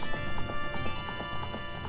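A horse gallops in The Legend of Zelda: Ocarina of Time on the Nintendo 64, with quick, even clip-clopping hoofbeats over steady game music.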